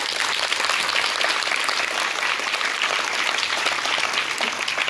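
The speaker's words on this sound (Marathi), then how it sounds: "सरांसाठी खूप जोरजोरात टाळ्या होऊ द्या" Steady, dense applause from an audience at a felicitation ceremony, loud and continuous for several seconds with no talk over it.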